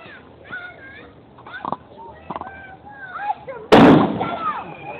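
A single loud gunshot blast rings out during a Wild West shootout demonstration in a town square, following a stretch of people talking and a few small knocks, with the report's echo trailing off under continued chatter.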